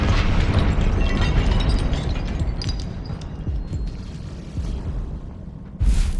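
A Confringo fire spell detonates in Hogwarts Legacy, a loud continuous rumbling blast with crackling debris that slowly fades, followed by a sharp new burst near the end.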